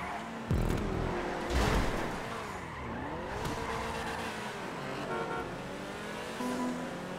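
A race car in GTA 5 Online revs and squeals its tires over several seconds, with bursts of engine noise and skids, fairly quiet overall and without talk.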